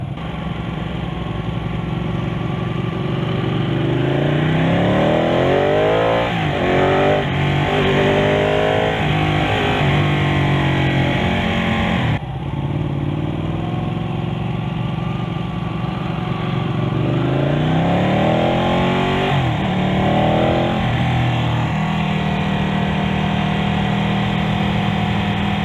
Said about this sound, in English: approaching the end of the demo ride for this Ducati 899 Panigale